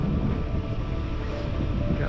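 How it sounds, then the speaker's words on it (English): A sailboat's diesel engine idles steadily while motor sailing under full sails toward home, a continuous low rumble mixed with wind noise on the microphone and faint water sounds. "Diesel is just idling over here."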